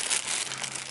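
A plastic bag of survival-kit supplies crinkles sharply as it is handled and opened, a brief bright rustle close by with no talking.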